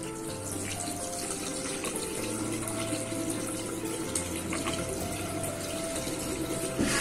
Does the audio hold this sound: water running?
yes